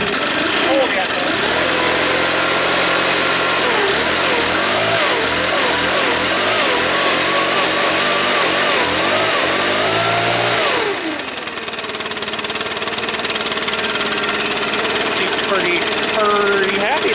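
A Stihl backpack blower engine started cold and running loud and close, its pitch wavering and revving up and down before settling into a steadier roar.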